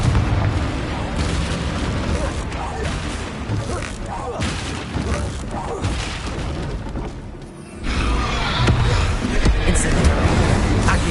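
Confringo blasting spells from Hogwarts Legacy go off amid dense, continuous game combat, with loud booms and crackling impacts layered over a busy mix that swells louder in the final few seconds.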